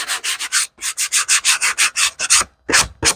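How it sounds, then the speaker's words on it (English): The edges of a board are sanded by hand with a sheet of 150 grit sandpaper. About a dozen brisk, rhythmic back-and-forth rubbing strokes sound close and loud, with a short pause near the end. "just take a sheet of the sandpaper. This is a 150 grit, and just sand the sides off a little bit"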